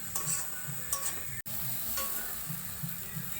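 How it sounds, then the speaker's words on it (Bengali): Kashmiri chilli powder masala frying in oil as it is cooked down, a soft close sizzle with rhythmic stirring scrapes and a brief dropout midway. "ভালো করে কষে নেব যতক্ষণ না তেল ছাড়ে।"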